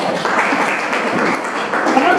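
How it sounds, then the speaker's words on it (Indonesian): Classroom students applauding their classmates after a physics group presentation, a steady, moderate patter of many hands clapping with faint voices underneath, short and continuous. "Tepuk tangan untuk teman-teman ya."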